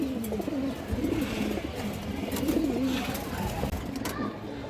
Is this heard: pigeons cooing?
yes